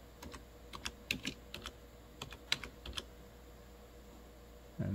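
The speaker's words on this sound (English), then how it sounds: "I'm typing in fuel pump." Someone types on a computer keyboard nearby, a quick irregular run of soft key clicks in two brief bursts over a quiet room hum.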